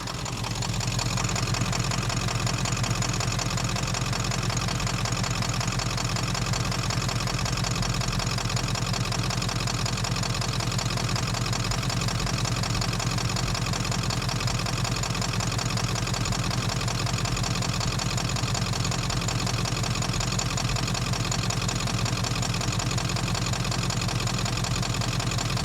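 A diesel engine idles after its fuel system has been bled. It gives a steady, loud, continuous rumble with an even mechanical clatter, alone and with no talk.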